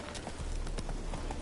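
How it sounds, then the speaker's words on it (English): Horse hooves clip-clop at a trot in The Witcher 3 video game, a quick run of soft, fairly faint hoof beats over a game background. "Alright, Roach, come on"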